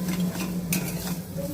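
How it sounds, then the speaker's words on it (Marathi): Paneer bhurji with coriander is stirred in a pan, a continuous close scraping and light sizzling with a brief louder clatter of the spoon partway through. "थोडासा कोथिंबीर टाकून थोडं परतून घेऊया 2 मिनिट"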